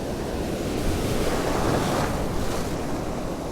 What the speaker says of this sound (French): Il y a une bonne houle qui se lève là.